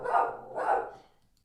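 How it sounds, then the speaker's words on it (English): A dog barks twice at a passing postal carrier, two close, loud barks about half a second apart with no voices around them. "Did you see my dog barking?"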